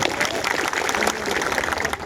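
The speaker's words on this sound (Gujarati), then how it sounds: "એકવાર જોરદાર આપણે તાળીઓ પાડી લઈશું" Rally crowd claps for police and staff at an open-ground political meeting, a dense burst of applause from many hands, close and steady for a couple of seconds.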